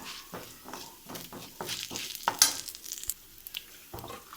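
Mint leaves fry and get stirred in a pan of oil with urad dal and turmeric for chutney, giving a soft crackling sizzle broken by repeated scraping strokes, close and fairly quiet.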